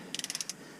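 17 mm socket wrench loosening the oil drain plug on a BMW 3 Series 320d E46 with the M47 diesel engine, a quick run of seven sharp ratchet clicks, close and fairly quiet.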